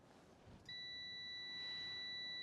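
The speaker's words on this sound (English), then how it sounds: "We'll turn our multimeter to continuity." A multimeter set to continuity gives a steady, high electronic tone while wiring on a Jeep is tested. It starts abruptly after a short quiet moment and holds unbroken to the end, clear and close.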